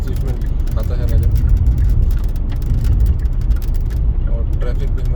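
Dense daytime road traffic at Jandu Singha, with scooters and motorcycles, forms a steady, loud wash of engine rumble and passing vehicles that runs unbroken throughout.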